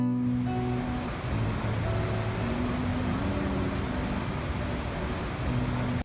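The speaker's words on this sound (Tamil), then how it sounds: "இந்த பாருங்க நயங்கரா ஃபால்ஸ் எப்படி இருக்குன்னு சொல்லி" Niagara Falls in Canada, a broad continuous roar of rushing water filling the whole stretch, steady and loud with no distinct breaks and no talking.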